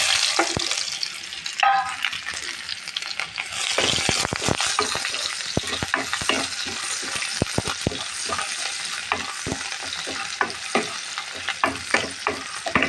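Spice paste with whole and ground cumin frying in a pan for a cabbage dish, a loud continuous sizzle with frequent scraping stirs of a spoon against the pan, no voices.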